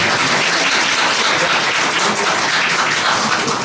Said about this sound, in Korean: 송영길 전 대표님 큰 박수로 우리 보내드리도록 하겠습니다